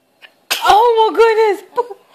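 A single close, loud sneeze with a voiced, drawn-out burst, preceded by a faint intake and followed by a brief tail of voice.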